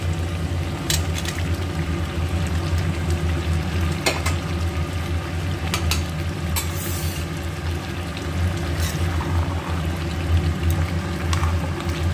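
Fried rui fish slid into a simmering curry, giving a continuous bubbling and frying hiss with occasional clinks and splashes, steady and fairly loud throughout with no talk.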